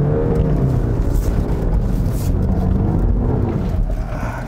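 A Land Rover Defender 110 D240 engine labours in low gear as the tyres dig into a sand dune, a heavy, continuous rumble with wind-like buffeting that stays loud and close throughout.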